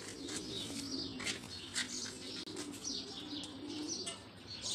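Jan Aarden racing pigeons, soft low cooing repeated in gentle pulses, mixed with faint chirps and occasional wing flutters, quiet and close.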